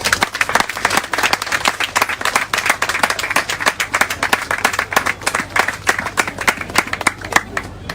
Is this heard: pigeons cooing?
no